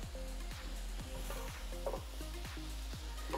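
Garlic, carrots, celery and onion sauté in a pan for a homemade Bolognese sauce, with a steady sizzle and a spoon scraping and stirring in a regular rhythm about every half second.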